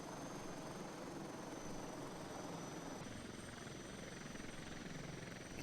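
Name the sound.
helicopter engine idling, from a flight simulator video game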